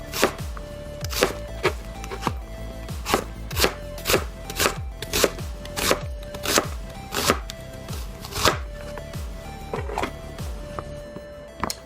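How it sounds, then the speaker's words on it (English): A knife julienning a sweet onion on a cutting board makes a steady series of sharp, close chops, about one or two per second, with no talking. "I'll start by julienning my sweet onion."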